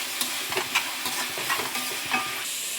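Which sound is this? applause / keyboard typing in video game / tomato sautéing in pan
tomato sautéing in pan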